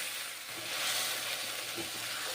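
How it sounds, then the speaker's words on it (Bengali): A ground paste of coriander, cumin, poppy seed and green chili cooking in a pan with a little water, giving a soft, continuous hissing sizzle with faint stirring scrapes, close and steady. "জল দিলাম, মশলা কষে নিচ্ছি"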